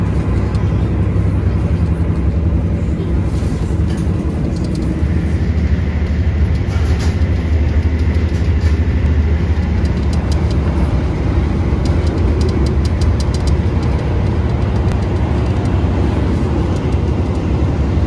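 Riding aboard the Argo Bromo Anggrek express train from Jakarta to Surabaya as it runs through Cikarang station at speed, a loud, continuous rumble and roar of the carriage fills the whole stretch without a break.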